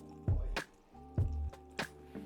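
Liquid poured into a cheap dollar-store bottle for a home bar, heard as repeated gurgling glugs in short bursts with pauses between, close and fairly clear.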